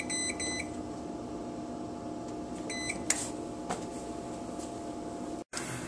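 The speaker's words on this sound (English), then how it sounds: "While we're waiting for the oven to bake the board" An oven hums steadily while baking a PS3 circuit board, a constant low drone with a few short electronic beeps near the start and middle, plus a couple of faint clicks.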